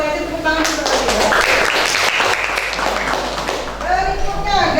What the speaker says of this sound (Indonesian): bagus aja tepuk tangan untuk dia